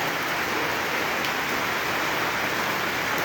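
In Alicia, Isabela, a steady downpour gives a loud, unbroken wash of rain noise throughout, with no talking.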